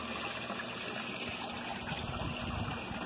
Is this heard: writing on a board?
no